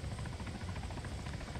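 A CH-67 Huron transport helicopter in the ARMA 3 game thrums close by in flight, steady rotor chop and engine drone at constant loudness, with no talking.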